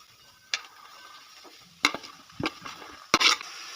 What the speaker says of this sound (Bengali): কড়াইয়ের মধ্যে দিয়ে দিলাম বাঁধাকপি